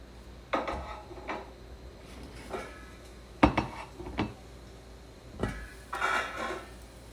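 A ceramic plate bowl is taken out and handled in a home kitchen, producing a handful of sharp knocks and clinks spaced irregularly among quieter rustling, close by and with no talking.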